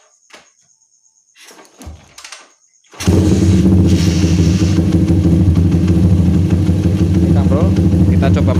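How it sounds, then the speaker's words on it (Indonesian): After a few seconds of faint handling noises, a Honda GL Pro motorcycle engine starts and idles loudly and steadily, a deep continuous rumble close by. "Oke, motor sudah menyala"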